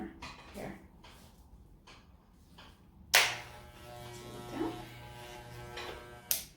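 A professional electric hair trimmer buzzes faintly during a home haircut, broken up by soft taps and clicks, with a few sharp handling knocks and speech.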